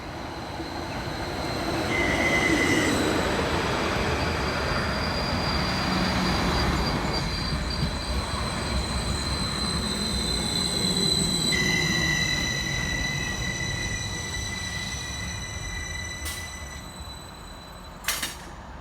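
A Transport for Wales Class 231 train, unit 231006, pulls into a station with a steady rumble of wheels on rail and long high-pitched brake and wheel squeals. It is loud and close throughout and eases off near the end.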